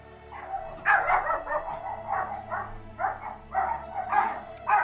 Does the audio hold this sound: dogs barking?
yes